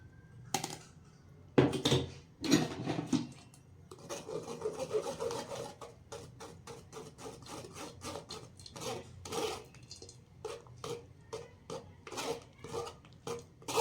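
Spinach-mint gravy is pushed and scraped through a metal sieve, giving repeated rough rasping strokes and clinks in irregular bursts. The sound is close and moderately loud, with no talking.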